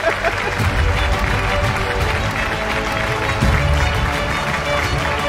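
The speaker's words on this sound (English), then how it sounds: "can we have a cheer for that?" An audience cheers and claps at a 70th birthday celebration, a lively crowd swell heard under ongoing talk, with brief louder bursts scattered through.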